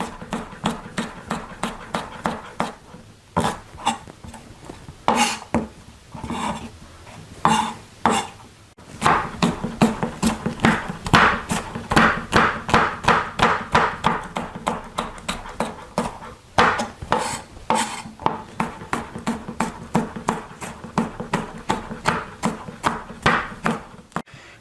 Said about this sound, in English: I'm going to cut them into strips like that, and then I'm just going to cross chop and get these 1/4 inch strips